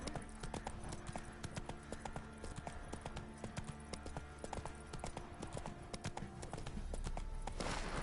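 The horse Roach trotting in a video game, rapid, evenly spaced hoof clip-clops close by over a soft background, ending in a brief louder rush.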